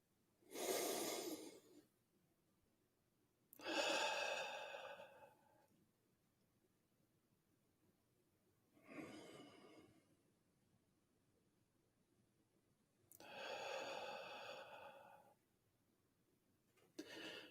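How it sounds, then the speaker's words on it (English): Slow, deep belly breaths during a guided meditation, four long airy inhales and exhales spaced by quiet pauses, close and fairly soft, with no talking. "Take a belly breath with me."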